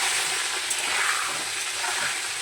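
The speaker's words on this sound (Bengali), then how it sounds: "ঢাকা দিয়ে দিয়ে কিন্তু এটা ভাজছি যাতে তাড়াতাড়ি হয়ে যায়" Chicken balls fry in oil in a covered pan, giving a steady, close hiss of sizzling with no pauses and no voices.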